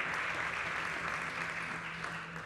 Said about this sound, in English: Ladies and gentlemen, please a round of applause for Natalia